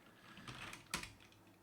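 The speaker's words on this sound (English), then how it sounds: "Perhaps it's hard for you to see what I'm typing." Computer keyboard typing, a few soft quick keystrokes and one sharper click in a quiet room, faint and close.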